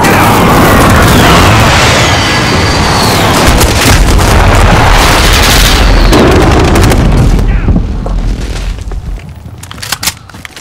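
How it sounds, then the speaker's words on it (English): Heavy explosions from a precision airstrike in Call of Duty: Modern Warfare, a loud, dense barrage of booms and blasts rumbling continuously before thinning out toward the end. "friendly precision airstrike inbound"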